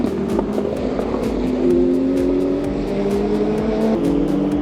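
Race cars roar past at full speed on the circuit at the 24 Hours of Le Mans, a continuous loud engine drone with rising and falling pitch as cars pass, heard without talk.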